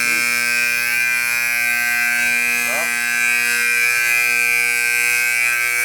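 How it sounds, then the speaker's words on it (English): A building security alarm drones continuously at a fire escape during an inspection, a loud steady electronic tone with harmonics that holds throughout, briefly disturbed by a faint warble. "I set off the alarm."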